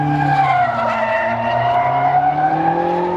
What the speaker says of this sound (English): Also par for the course when you got SEMA is drifting.